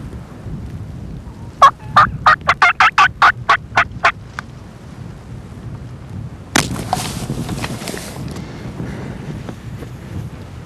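A wild turkey gobbling in an open field, a rapid loud rattle of about a dozen gobbles, then a burst of wind buffeting the microphone over faint outdoor background.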